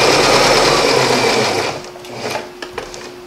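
Sewing machine running fast as it stitches along a marked line, a loud steady mechanical whir close by, then slowing and stopping with a few light clicks of the fabric being adjusted.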